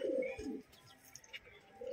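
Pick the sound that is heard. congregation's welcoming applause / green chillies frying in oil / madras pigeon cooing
madras pigeon cooing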